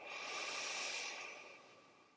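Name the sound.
deep breathing during yoga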